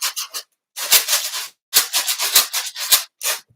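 Rice is shaken in a square homemade container, giving bursts of dry rattling hiss in an uneven rhythm with short gaps between, close and clear with no talking.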